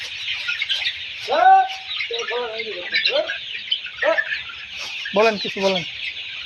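Layer hens aged 35 days cluck and squawk in short bursts during fowl pox vaccination, over a constant background of high chirping from the flock, while a person talks briefly nearby.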